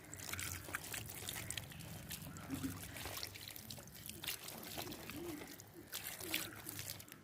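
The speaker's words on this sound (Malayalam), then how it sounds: "ഒന്ന് നന്നായിട്ട് വെള്ളം ഒഴിച്ച് വീണ്ടും ഒന്ന് നന്നായിട്ടൊന്ന് നമ്മൾ കഴുകിയെടുക്കുവാണ്" Water trickles and pours over raw chicken being washed for outdoor cooking, a light, uneven splashing with small spatters and drips, close by and fairly quiet.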